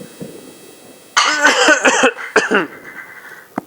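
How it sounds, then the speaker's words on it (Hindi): A burst of harsh coughing, several rough hacks in quick succession, then a brief pause, another short cough and a faint final one, close and loud. "थोड़ी खांसी आ गई थी, सॉरी"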